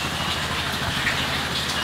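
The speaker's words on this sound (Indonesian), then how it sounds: "Hujan guys." Steady rain falling outdoors on a morning in Pulau Penyengat, Riau, a broad continuous hiss of drops on surfaces at moderate level, with no talking over it.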